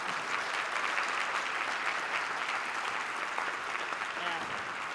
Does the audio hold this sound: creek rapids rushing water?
no